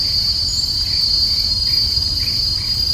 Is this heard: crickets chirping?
yes